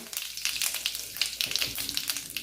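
Mustard seeds, cumin and curry leaves crackle and sizzle in hot oil in a pan, with a dense, spitting fry and sharp pops throughout, near and lively.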